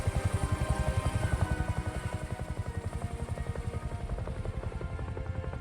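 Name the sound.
helicopter in Jurassic World Evolution 3 video game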